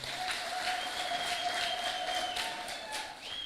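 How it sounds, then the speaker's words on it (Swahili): An audience claps for a doctor, a steady spread of applause lasting a few seconds, mixed with background tones and easing off slightly at the end. "Hebu mpigieni daktari makofi."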